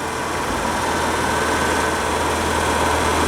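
Inside a car cruising at about 50 mph and 2,500 RPM, a steady broadband road roar mixes with a low engine hum, constant and fairly loud with no talking.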